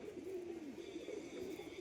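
A single male pigeon with green checker plumage and white-edged flight feathers, kept as a performing fancy bird, gives low rolling coos, a steady close murmur over faint background noise.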